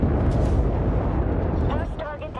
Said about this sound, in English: Target is unstable and about to explode.